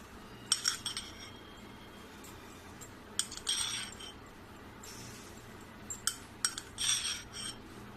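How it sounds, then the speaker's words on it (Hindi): Measured salt spooned into Bihari-style mango pickle, faint clinks and scrapes of a spoon against a container in a few short clusters over a quiet background. "तो नमक मैं इसमें डाल देती हूँ।"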